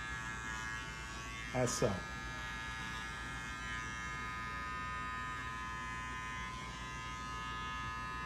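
Electric hair clippers run with a steady, loud buzz throughout a men's modern mullet haircut, with a brief rustle of cutting hair near the middle and a few spoken words over the hum.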